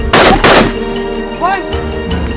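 Rifles fire during an anti-poaching ranger training drill, with two loud, close shots in quick succession followed by lighter reports and a ringing tail, while voices shout in the background.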